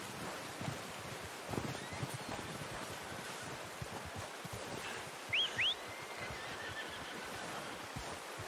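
A horse in the Red Dead Redemption II game gives a short whinny midway through, heard over quiet outdoor ambience of rustling and faint wind.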